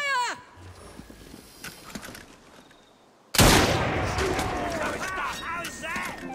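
Gunfire in Assassin's Creed Syndicate breaks out suddenly as a loud volley after quieter horse hooves and carriage sounds, with voices shouting over the shots.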